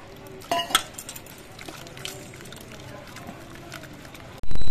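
Batter for water lily fritters is mixed by hand with small additions of water, making soft, wet stirring and squelching noises. Light clinks from the bowl come in now and then, and a sudden loud burst cuts in at the very end.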